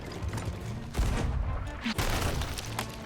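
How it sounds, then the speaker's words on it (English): Cannon fire in the pirate ship game Sea of Thieves during a ship-to-ship battle, heavy booms landing close and loud about a second apart over a rumbling background. "we were trading cannon shots back and forth"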